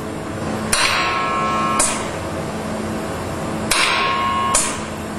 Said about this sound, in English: When the cylinder is energized, the pressure forces the piston to the left, and when the valve vents the pressure, a spring returns the piston.